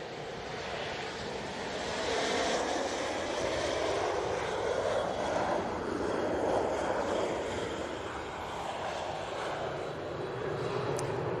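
An airliner lands at Manchester Airport, its engine roar swelling and sustained across the runway, heard from a spotting position at moderate distance with wind buffeting throughout.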